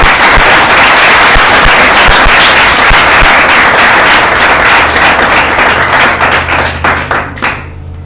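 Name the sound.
congregation applause in church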